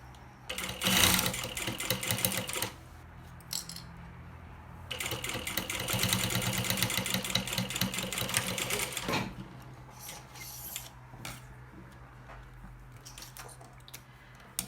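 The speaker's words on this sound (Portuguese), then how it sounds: "E continua costurando." A sewing machine stitches a baby outing bag in two long rapid bursts of rhythmic mechanical clatter, separated by pauses, followed by a few short stitching spurts over a low steady motor hum.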